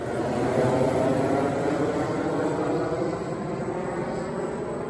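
An airplane drones overhead outdoors, a steady engine roar at moderate loudness that eases slightly toward the end, alone without speech.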